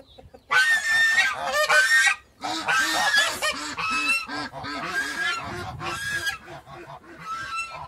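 Geese honking loudly in a backyard, repeated harsh nasal calls in overlapping bursts, close to the microphone with short pauses between volleys.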